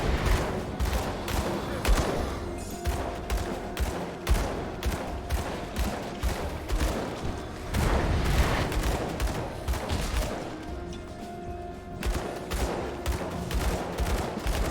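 Enemies in Grim Dawn firing on a cornered character, a dense run of rapid gunshots and impacts that keeps going for the whole stretch, with a voice heard faintly.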